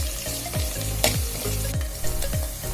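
Curry leaves, onion and garlic sizzle and fry in hot oil with stirring, a steady close crackle with a few sharper spatters, as part of a fish curry being cooked.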